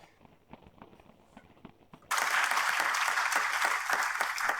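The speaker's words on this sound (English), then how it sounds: "Doctors Malhotra and Dr. Malone, a round of applause." Loud applause breaks out suddenly for the speakers at a European health conference, a dense steady clatter of clapping from a hall audience that holds to the end, following a short stretch of quiet room noise and faint footsteps.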